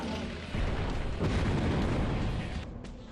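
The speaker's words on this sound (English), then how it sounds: "A heavy-duty Donku cannon, indeed." A heavy-duty Donku cannon fires in the video game Spectrobes Origins, giving a loud booming blast that sets off a sustained rumbling roar of explosion noise with no voices.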